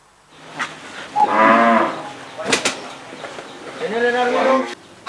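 Sacrificial cattle for the Eid al-Adha festival moo at a market in Lampung, Indonesia, giving two long, loud, close calls a few seconds apart with brief clatter between them.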